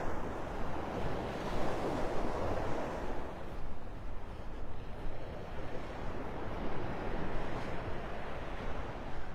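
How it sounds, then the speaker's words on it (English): Gentle waves wash steadily onto Vanderbilt Beach in North Naples, Florida, a soft broad surf roar swelling and easing, mixed with wind buffeting the microphone, no voices. "So we are now on Vanderbilt Beach."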